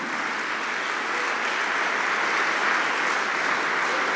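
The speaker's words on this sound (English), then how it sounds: "let's give Student Minister Wesley Muhammad another well-deserved round of applause" An audience at a Nation of Islam talk on The Protective Diet gives Student Minister Wesley Muhammad a sustained round of applause. It is a steady, full wash of clapping with no voices over it.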